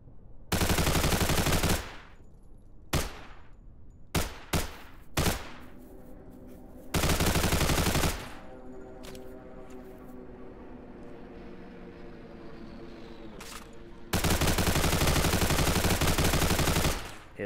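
Loud bursts of automatic gunfire from a one-handed gun in a video game set in America at night, several long sustained volleys broken by short single shots, with a steady engine-like drone underneath.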